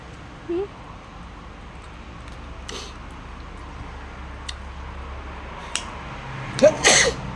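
One person sneezes sharply near the end, after a long stretch of quiet room background with a brief murmur of voices early on.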